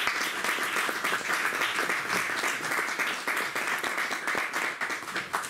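Dense, sustained applause from a large audience at a university conference, steady and loud throughout with no voices breaking through.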